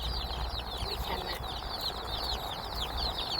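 Red ranger broiler chickens on a farm keep up a dense, steady chorus of high peeping and clucking, close and continuous over low background rumble.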